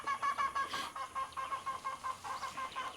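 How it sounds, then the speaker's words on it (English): A chicken clucks repeatedly in a rapid, rhythmic series of short calls, fairly close and steady throughout. "That chicken got to make all that noise on the video"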